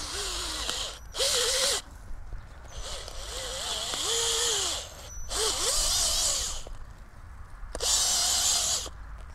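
A power drill whirs in several bursts, spinning up and down repeatedly with short pauses between, boring planting holes into garden soil at close range.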